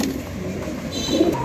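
Pigeons coo softly among caged pairs at a pigeon seller's stall, a low murmuring that runs steadily and grows a little stronger toward the end.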